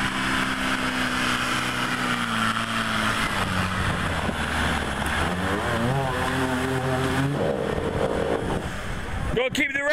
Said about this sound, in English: Gotta keep the revs up, Mark!